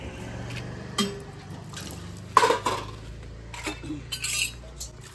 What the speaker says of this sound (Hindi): और ये यहाँ पे जो है ना धो रहे हैं बर्तन भगवान के।